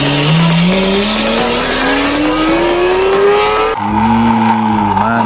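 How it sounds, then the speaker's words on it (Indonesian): A Lamborghini race car revs hard, its engine pitch climbing steadily with tire squeal over the top, loud and close, then cutting to a lower droning engine tone near the end. "Mobil balap Lamborghini."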